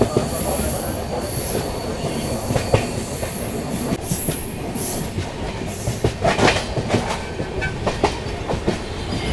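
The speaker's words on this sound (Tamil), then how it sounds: "வண்டி நல்லா ஸ்பீடாக பிக்கப் ஆகுது." Kacheguda–Madurai weekly superfast express train gathering speed, a steady loud rumble of wheels on rails with occasional clacks and high squealing, close and continuous with no talk.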